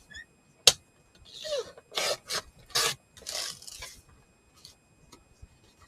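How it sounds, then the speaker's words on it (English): Scissors or a blade cut the extra flap off a cardboard Crayola box, giving a few separate short rasping snips and scrapes with quiet gaps between them, close and fairly soft. "And then I'm going to cut off this extra flap."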